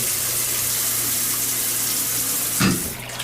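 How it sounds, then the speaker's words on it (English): A powerful hotel shower head running at full force, a steady loud hiss of spraying water that surges briefly near the end and then eases off slightly. "Shower head is very powerful and works."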